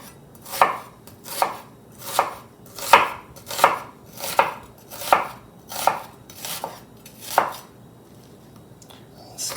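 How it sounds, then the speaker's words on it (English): A knife slices a peeled cucumber thinly on a cutting board, giving about a dozen crisp, evenly spaced chops roughly one per second, close and clear against a quiet background. "Start the chopping part, which I do this way."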